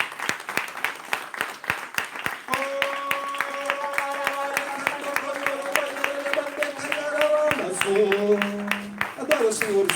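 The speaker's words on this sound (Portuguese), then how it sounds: "Dê uma salva de palmas bem forte a Jesus." Church congregation clapping in a steady rhythmic beat, sharp evenly spaced claps running throughout, with sustained singing or keyboard tones joining partway and a voice speaking over it.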